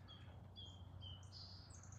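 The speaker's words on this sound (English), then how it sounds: "that's a blue jay and a Carolina wren singing for us" A blue jay and a Carolina wren sing outdoors in New England, their faint, distant high calls and trills coming in short bursts over a steady low rumble of background noise.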